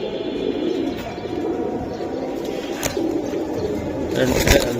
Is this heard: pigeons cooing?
yes